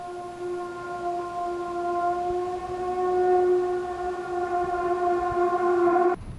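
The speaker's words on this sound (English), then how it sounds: "a police evacuation vehicle moves through the battered streets of Koistenivka as a drone detector picks up a threat overhead" A wailing electronic alarm siren from a drone detector inside a police evacuation vehicle in eastern Ukraine holds one steady, loud harmonic tone that cuts off abruptly at the end, with road rumble underneath.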